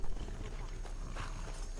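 Rhythmic clip-clop of horse hooves in Skyrim over a steady background hum, with some voice-like sound mixed in.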